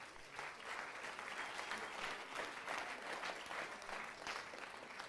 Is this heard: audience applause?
yes